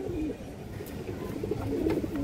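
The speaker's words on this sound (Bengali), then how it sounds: "এই সামনেটা মাদি কবুতরটা," A pair of racing pigeons, a male and a female, cooing softly in a low rolling murmur close by, brief and steady with no talking.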